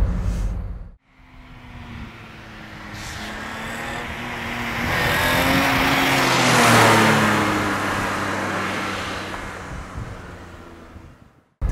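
BMW E30 320i Touring five-door estate engine revving while driving, rising and falling through gear changes with a rev-matched downshift, steady and fairly close with road noise, no talking.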